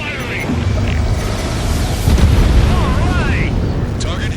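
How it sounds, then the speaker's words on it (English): Rail cannon destroyed in the Ace Combat 7 video game: a loud, sustained rumbling explosion roar fills the clip, with radio voice chatter and music running over it. "Confirming explosions. The rail cannon's been destroyed."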